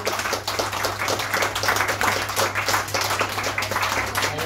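A pub audience at a short film evening claps and cheers in a dense, steady burst. It is loud and close and lasts the whole stretch, with a low electrical hum underneath.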